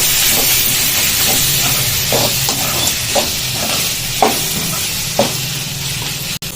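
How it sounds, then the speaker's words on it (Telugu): Green chillies frying in a hot pan and being stirred, a steady hiss and sizzle with several distinct scraping stir strokes at regular intervals, close and fairly loud, ending with a sharp click. "ఇప్పుడు పచ్చిమిరపకాయలు మాకు ఇదంతా వేగింది కదా ఇందులో వేసి కలిపి"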